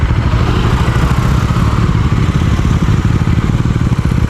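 A motorcycle engine labours on an uphill road, a loud, close, steady throbbing drone with fast rhythmic pulsing and no speech.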